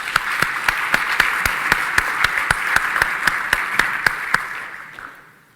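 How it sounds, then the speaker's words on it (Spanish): Applause from an audience at the Peru Capital Markets Day 2019 finance conference, a steady dense clapping with regular sharp claps standing out, holding for about five seconds and then tapering off. "por favor, un fuerte aplauso"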